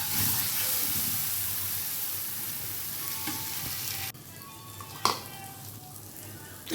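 Tomato sauce being sautéed in a pan, a steady sizzling hiss that drops abruptly quieter partway through, with a brief clatter of a utensil near the end, no talking.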